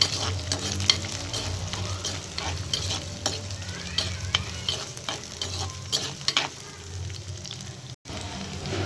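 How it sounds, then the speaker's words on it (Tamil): Onions sizzle steadily in hot oil, frying until golden, with a spoon scraping and stirring the pan now and then, close up and with no talking. "வெங்காயம் நல்லா பொன்னிறமாக வதங்கிருச்சு"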